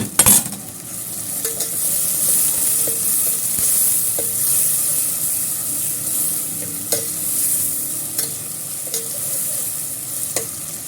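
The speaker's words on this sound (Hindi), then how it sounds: "अब मैं इसके अंदर डालूँगी टमाटर।" Tomatoes and green chillies sizzle as they fry with onions for an aloo matar pulao, with a steady frying hiss broken by regular scrapes and clicks of a spoon stirring the pan.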